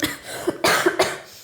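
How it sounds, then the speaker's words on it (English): A person coughs close to the microphone in a few sharp, harsh bursts spaced over a second and a half, with a raspy throat-clearing quality and no talk. "There's going to be some coughing in this episode"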